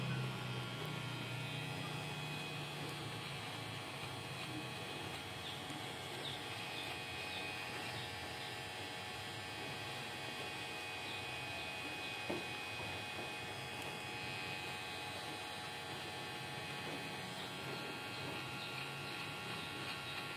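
A Kemei 809A cordless hair clipper runs continuously during a shave, a faint steady electric buzz and hum that holds at an even level throughout, with no talk.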